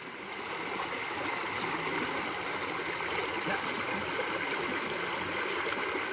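River water flows along a stream bed in a constant, moderately quiet wash of rushing noise that swells slightly after the first half second and then holds level, with no talking.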